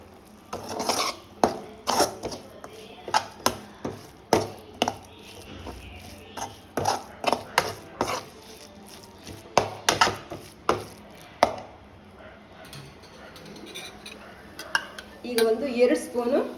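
Okra fry being mixed with cumin powder and turmeric in a pan: a series of sharp scraping and clinking spoon strokes against metal come in an uneven rhythm, close and fairly quiet.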